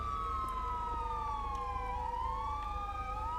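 A police siren in the video game GTA 5 wails continuously, its pitch sliding down and back up in a slow sweep over a constant low engine hum, close and steady.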